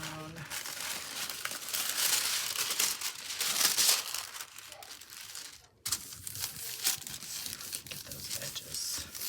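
Paper is laid down and handled for a mixed media art piece, giving close crinkling and tearing rustles in bursts, with a brief pause near the middle.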